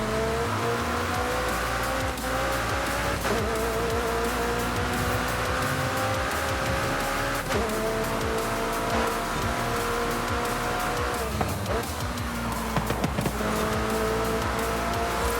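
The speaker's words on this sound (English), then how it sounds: "You can really hear the turbo blowing off all the time." A racing car engine in the video game Forza Horizon 5 roars steadily with repeated gear shifts and bursts of turbo blow-off whoosh, loud and continuous with no talking.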